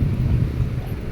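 Steady wind buffets the microphone outdoors while people walk, giving a low rumbling roar with no speech.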